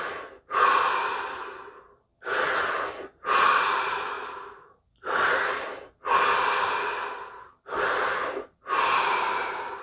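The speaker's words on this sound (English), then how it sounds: "5 deep breaths. Here we go." Five slow, deep breaths during a guided breathing session, each a loud, close whooshing inhale or exhale lasting about a second, separated by brief silences.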